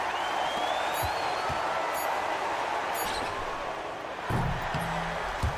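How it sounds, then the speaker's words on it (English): Home crowd at a EuroLeague basketball game cheering after a victory, a steady dense roar of the arena with a few scattered sharper sounds and faint voices. "the home crowd happy here as they get the victory"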